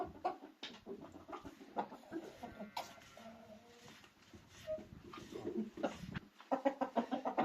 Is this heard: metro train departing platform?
no